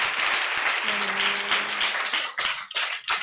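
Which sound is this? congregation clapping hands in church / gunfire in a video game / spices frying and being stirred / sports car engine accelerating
congregation clapping hands in church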